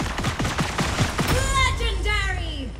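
Star Lord's gunfire in the Marvel Super War video game: a rapid burst of sharp shots in the first second, then voices talking over the fading action.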